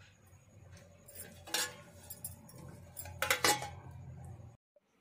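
Metal lid clattering onto a pot of homemade khoa gulab jamun, two clinking knocks of metal on metal over a faint kitchen hum, close by and then silence.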